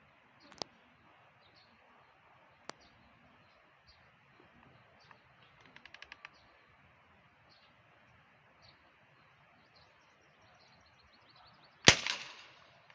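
A butane-powered PVC toy gun fires at a can about 17 meters away outdoors, giving a sharp, loud crack with a short rattling tail against quiet ambient noise, preceded by a few faint clicks.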